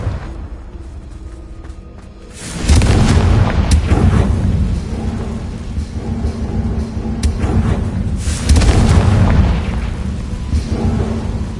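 Confringo blast spell from Hogwarts Legacy erupting in a loud, booming burst with a rumbling tail, then a second heavy blast a few seconds later, close and alone without talk.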